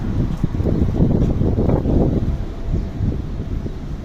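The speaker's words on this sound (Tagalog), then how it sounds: "lakas ng hangin talaga" Steady, heavy wind in Hong Kong roaring and buffeting close to the microphone, with gusts swelling and easing throughout and no one speaking.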